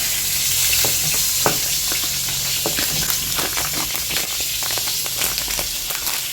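Sliced pointed gourd (potol) sizzles in a pan with steady close frying crackle and scattered pops, stirred occasionally, loud and continuous throughout.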